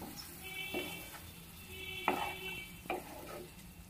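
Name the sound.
stir-frying spice masala with potatoes in pan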